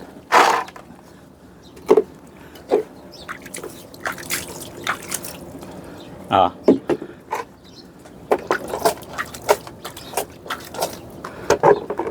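Water drips and splashes in irregular plops, some close and sharp, with a brief voiced exclamation near the start.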